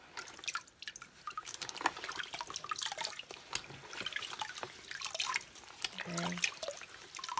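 Shibori-dyed fabric being rinsed by hand in a bucket of water, with irregular splashes, drips and trickles close by and a brief spoken word partway through.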